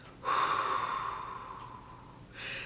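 A woman demonstrates a labor-contraction breathing technique with a long forceful exhale through the nose and mouth, close and breathy, followed by a shorter breath after a pause.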